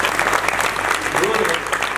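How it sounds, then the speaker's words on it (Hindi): Audience at a yoga training camp clapping together, a dense continuous burst of many hands filling the short moment with no talk over it. "ताली बजाए।"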